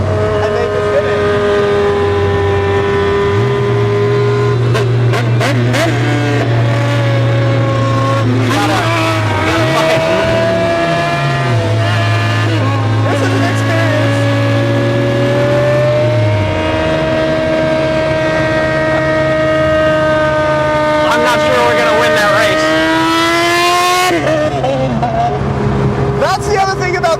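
A 1990s Corvette drives and accelerates, its engine note rising and falling through gear changes in a loud, sustained drone, with people talking over it throughout.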